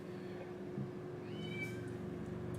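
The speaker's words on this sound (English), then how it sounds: "Sorry for the kitty cat, guys, if you can hear." A pet cat indoors gives a faint low murmur, then a clearer rising meow partway through, both close and soft over a quiet room hum.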